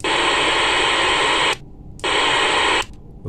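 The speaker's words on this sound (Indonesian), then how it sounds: "Kemudian coba buka squelnya." Static bursts from a handheld two-way radio with the squelch opened, as two loud, steady hiss bursts separated by a brief silence, close and alone.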